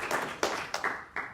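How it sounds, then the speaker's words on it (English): A small audience at a social impact buildfest presentation event claps in a few uneven bursts, close and fairly quiet, the clapping thinning and resuming over a short stretch without talk. "So give yourselves a round of applause for all that."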